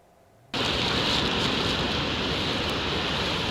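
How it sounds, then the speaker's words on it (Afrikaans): The Augrabies waterfall roars in flood with a massive volume of water, a dense, loud and unbroken rumble that cuts in suddenly and holds steady without any voices. "die Ograbiese waterval dreun weer"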